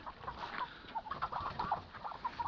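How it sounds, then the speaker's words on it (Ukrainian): Ducklings being fed in the evening, a busy stream of soft high peeps and chirps, close but fairly quiet, with no talk over them. "Годуємо каченят."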